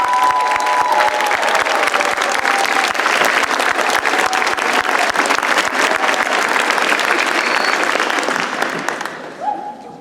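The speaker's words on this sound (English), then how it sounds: "Let's give them all a round of applause." Sustained loud applause from a school concert audience honoring the class of 2025 seniors at a spring band concert, dense steady clapping with some cheering that tapers off near the end.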